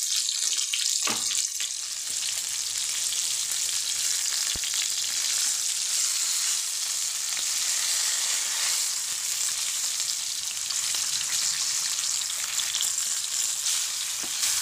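Pomfret fish frying in hot oil, a steady dense sizzle with crackling spatter that runs unbroken and fairly close throughout, with no talking.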